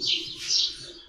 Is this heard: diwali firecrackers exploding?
no